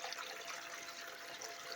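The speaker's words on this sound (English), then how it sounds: "Here comes the water." Water pumped on low power flows into a gold sluice highbanker, giving a steady, fairly faint rushing and splashing that stays even and unbroken throughout.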